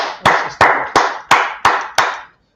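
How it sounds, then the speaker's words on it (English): A group audience at a Brotherhood class claps in six slow, evenly spaced sharp bursts, each a loud unison clap fading into a short tail before the next, ending in silence. "Let's clap it up for the Brotherhood."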